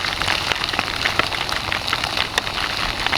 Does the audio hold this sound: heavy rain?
yes